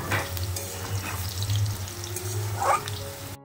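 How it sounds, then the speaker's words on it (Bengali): Potatoes and chicken fry in a pan with a steady, close sizzle and bubbling hiss, broken now and then by a brief stirring scrape. "আলুটা ভাজার পর চিকেনটাকেও আমি হালকা করে ভেজে নিয়েছিলাম"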